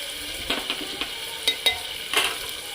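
Ginger garlic paste frying with browned onions in a pan for chana dal, a low steady sizzle broken by several sharp scraping stirs of a utensil, close and clear.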